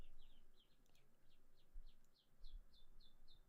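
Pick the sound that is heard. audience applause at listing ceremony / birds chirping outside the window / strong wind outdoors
birds chirping outside the window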